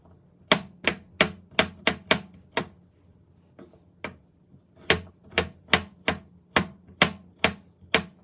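A knife chops garlic by hand on a board in close, crisp, evenly spaced strikes, about sixteen in all, with a short pause midway.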